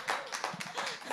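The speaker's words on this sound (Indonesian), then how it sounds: "Wih, tepuk tangan Pak" Audience applause at a church sermon, a burst of clapping filling the hall at moderate level, steady and dense over about a second.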